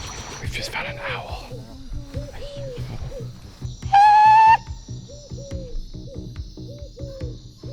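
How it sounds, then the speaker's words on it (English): An owl hoots at night in a pitch-black forest: soft low hoots repeat steadily under a constant insect chorus, with one loud whistle-like call in the middle. "We've just found an owl."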